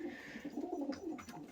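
A racing pigeon hen coos in the loft, a low, close, rolling coo repeated several times with no voices.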